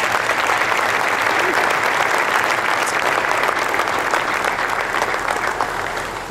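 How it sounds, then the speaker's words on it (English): Steady, dense applause from an audience honouring a university football program's coaching and support staff at a Maryland Football press event, loud and sustained for about six seconds before easing slightly at the end. "Let's give them a round of applause."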